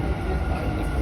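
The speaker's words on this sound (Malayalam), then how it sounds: "മെട്രോ വരുന്നുണ്ട്" A Dubai Metro train arriving at a station: a steady, loud low rumble and rolling roar holding throughout the short stretch, with no clear talk over it.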